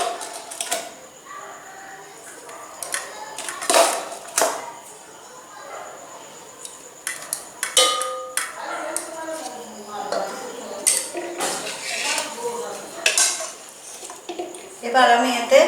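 Rice is spooned into a ghee-coated cooking pot and arranged for a hilsa biryani, giving close, intermittent clinks and scrapes of a utensil against the pot; a voice is heard now and then.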